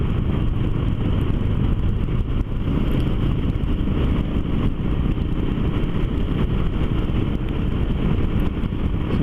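A motorcycle engine fitted with a 16-tooth rear sprocket runs hard at speed, producing a loud, steady, close-up roar and drone that holds constant throughout with no voices.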